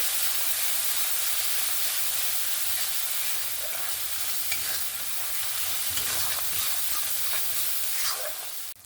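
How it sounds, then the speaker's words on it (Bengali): Spice paste for a rohu fish curry with cauliflower and potato sizzles loudly in a pan, a dense constant frying hiss with occasional stirring scrapes and no talk. "দিয়ে আবারও মশলাটাকে ভালো করে কষিয়ে নেব"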